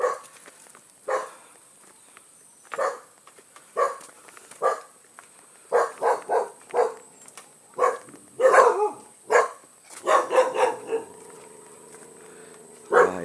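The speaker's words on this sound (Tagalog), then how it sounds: "Natahol kami ng aso." A neighbor's dog barks repeatedly in short bursts outdoors near a coconut grove, moderately close, with irregular spacing and a quick flurry of barks toward the end.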